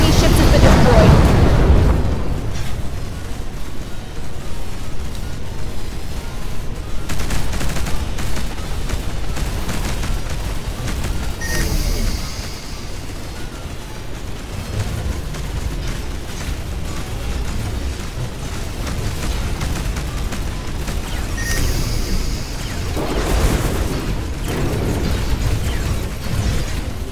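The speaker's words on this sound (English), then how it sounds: "Forward section of the hull. Put rounds through. Enemy ship destroyed." Deep rumbling explosions in the space combat game Between the Stars, a heavy blast opening over a continuous roaring battle bed, with further booms swelling later and a voice speaking over it.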